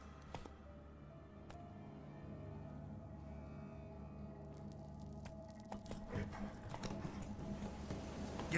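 Roach the horse galloping in The Witcher 3 video game, faint steady hoofbeats with light jingling tack under ambient game sound, growing somewhat louder and busier toward the end.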